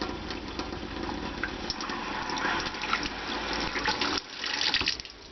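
Water pours steadily down a drain in an RV plumbing system, a continuous close splashing gurgle with a brief dip before it flows on.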